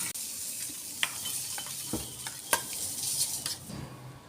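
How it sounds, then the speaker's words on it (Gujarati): Spiced curd (tikhu dahi) with chilli, turmeric and coriander-cumin being stirred, giving a soft, steady wet swish with a few sharp clinks of a spoon against the bowl, close and fairly quiet. "બધું સારી રીતના મિક્સ કરી લઈશું"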